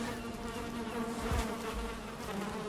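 Bees buzzing around beehives in the game Valheim, a steady close droning hum with no talk.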